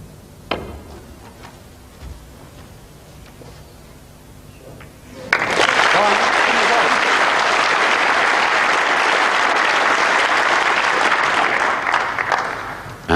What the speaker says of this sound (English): And that one applauded by Stephen Hendry.